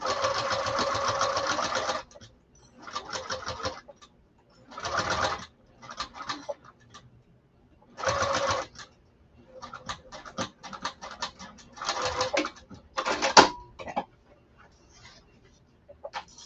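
A sewing machine stitches a bag gusset in repeated bursts of steady mechanical whirring, some long and some short, separated by brief pauses.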